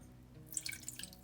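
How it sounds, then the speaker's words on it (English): Water trickles and drips into a pan of cane sugar, butter and honey for a Jamaican spice bun glaze, faint, quick splashes over a quiet kitchen hum. "and then we're gonna add some water"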